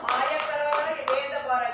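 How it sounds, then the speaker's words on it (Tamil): A few sharp hand claps ring out during a Tamil Christian sermon, scattered and mixed in with an ongoing voice. "கைதட்டுகளை பார்ப்போம்."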